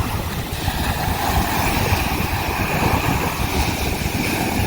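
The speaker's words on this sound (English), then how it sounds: "And the energetic waves." Energetic ocean waves breaking on a beach in the morning, a constant loud roaring surf mixed with wind rumble on the microphone, steady with no talking.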